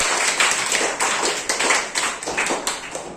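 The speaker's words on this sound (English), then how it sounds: "We can clap for Prashant and Aradhya." Students clap in a classroom, a short burst of many hands clapping close and fairly loud, with a loose, uneven rhythm throughout.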